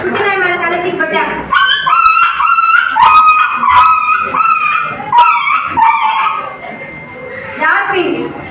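A mimic voices a puppy, producing a run of high, thin yips and whimpering whines in quick succession, close and loud, tapering into softer whimpers toward the end.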